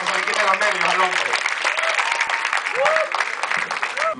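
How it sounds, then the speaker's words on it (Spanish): A church congregation at a talent night claps loudly for a nervous performer, dense applause mixed with cheers and whoops, with voices calling out over the clapping throughout. "Denle un aplauso fuerte para que se le quite los nervios al hombre."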